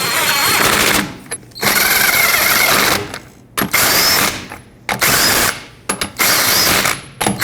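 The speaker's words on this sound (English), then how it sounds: "Put on all 5 of your lug nuts, bottom them out, and torque them to 76 foot-pounds." Impact wrench bursts running lug nuts down onto a 2003-2008 Toyota Corolla rear wheel, several loud rattling hammering bursts separated by brief pauses, close and alone with no talk.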